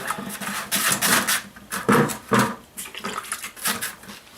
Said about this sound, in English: Just put the water in.